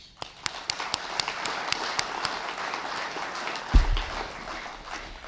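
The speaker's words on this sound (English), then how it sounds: "Just a quick clap for them." Brief, sparse clapping from a small audience at an astronomy club meeting, scattered claps fading as a thump sounds near the end.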